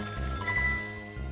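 A telephone rings in Ghost Trick: Phantom Detective, a steady, moderately quiet electronic ringing tone with repeated pulsing that continues for a second or so before fading, with no voices over it.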